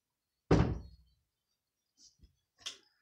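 A door opens with a sharp thunk that fades over half a second, followed by two faint, brief knocks or clicks in an otherwise silent room.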